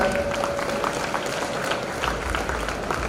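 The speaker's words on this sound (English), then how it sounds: "Please give sir a huge round of applause." Loud audience applause fills a hall at an HR conference, a dense steady patter of many hands clapping throughout without pause.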